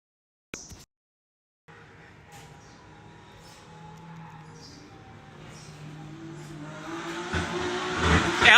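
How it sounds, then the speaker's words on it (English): A drift car at Cyprus Drift Championship practice on track, its engine roar rising steadily from faint to loud, with tire squeal and a sharp burst at the end. "El Torero missing zone 2, transitioning not deep enough into zone 3, going into zone 4"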